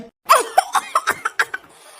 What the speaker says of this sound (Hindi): अरे अरे माई कितना खांसी आवता बाटे।